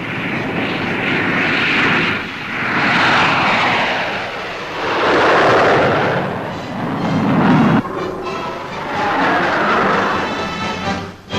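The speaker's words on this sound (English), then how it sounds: "This was one of the first jet fighters." An early jet fighter, the P-80, roars overhead in 1946 formation flight footage, a loud, rushing engine noise that swells and fades in repeated waves without any talking.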